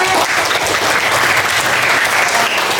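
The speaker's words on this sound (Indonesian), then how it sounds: "tepuk tangan anak-anak" A classroom of children clapping together, a loud, even burst of applause that continues steadily for a few seconds.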